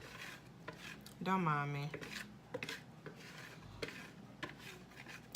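Food scraped out of a cooking pan without a spatula in a home kitchen: quiet, intermittent scraping and rubbing strokes, with a voice speaking briefly.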